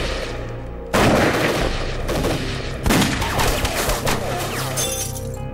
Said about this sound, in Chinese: 11点钟方向开火